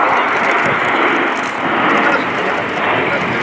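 Eurofighter Typhoon jet performing a roll in an airshow flying display at RIAT, a loud, steady broadband jet roar that holds throughout with a slight dip midway, with a commentator talking over it.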